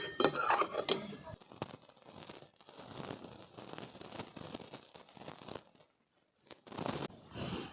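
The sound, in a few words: pot of malai being taken off the stove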